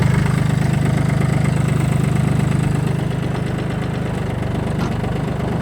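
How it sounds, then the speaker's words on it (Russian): A Kubota L18 compact tractor engine runs steadily at idle with a low, even throb and rattly knock, close and loud throughout as its hydraulics raise and lower a rear tiller, easing slightly softer after a few seconds. "Давайте посмотрим на работу нашей гидравлики."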